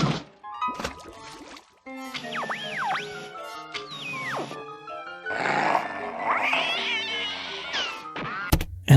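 Cartoon cat meows in a Dexter's Laboratory episode, several rising and falling yowls amid busy music, bangs and other sound effects, loud and close.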